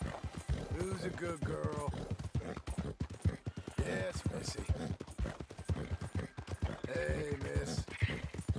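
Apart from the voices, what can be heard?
horse hooves clip-clopping in a video game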